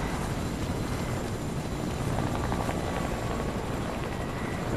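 A helicopter in the video game Fortnite gives a steady, dense rotor and engine roar throughout, unbroken and fairly loud, with no voices.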